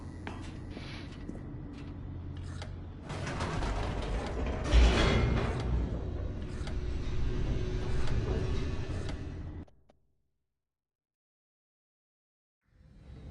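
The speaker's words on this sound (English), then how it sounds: "The elevator raced downward" Inside The Stanley Parable, an elevator descends with a continuous grinding, creaking mechanical rumble and rattling gears that swell midway, then cut off abruptly into silence before a faint return.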